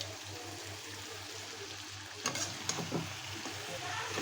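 Chicken meat with capsicum simmering in a homemade tomato sauce in a pan, a faint steady sizzle with a few brief stirring clinks partway through, quiet and close with a low hum underneath.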